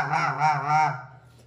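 A goose call imitating specklebelly geese, blown in a rapid, reedy honking chatter, three quick bursts running together up close, then trailing off into quiet.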